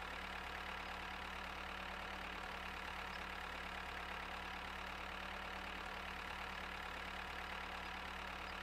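Tractor engine idling steadily in the farming video game Farmer's Life, a continuous low rumble with a faint hum that holds constant throughout, with no talking.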